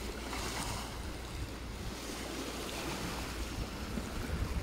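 Steady rushing of ocean waves and surf near Nassau, Bahamas, with wind noise buffeting the microphone, continuous and fairly faint, no voices.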